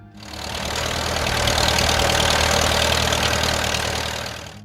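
A Farmall M tractor engine running, a steady close mid-to-low idling chug that swells in loudness and then eases slightly, heard alone without speech.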